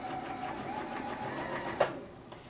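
A sewing machine stitches forward along a quarter-inch seam in a steady, fairly quiet mechanical whir, with a brief click or knock near the end.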